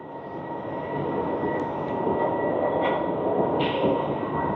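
Electric metro train in an underground station in Copenhagen, a steady loud rumbling roar with a constant electric whine, filling the whole stretch with no talk.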